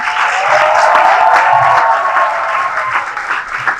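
A studio audience breaks into loud, sustained applause, dense clapping that carries on evenly without a break through the moment.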